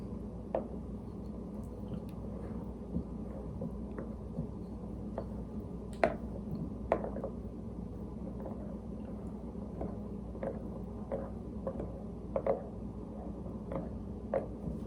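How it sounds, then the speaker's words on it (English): Rolled rye porridge being stirred in a pot: faint, soft wet churning under a low background hum, broken by scattered light clicks and taps of the spoon, quiet and close. "Stir it up."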